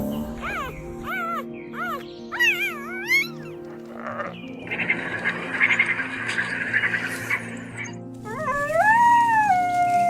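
African wild dogs give a series of rising and falling whooping howls and yelps, close and fairly loud, with several calls overlapping against a steady background and a long rising call at the end.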